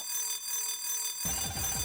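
A loud electronic alarm from the video game Mega Man Star Force bursts in partway through, a steady repeating electronic pattern over faint background game music.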